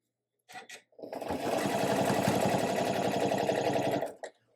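A sewing machine with a walking foot runs a steady zigzag stitch across elastic, a close, fast mechanical whirr of about three seconds after a couple of short starts.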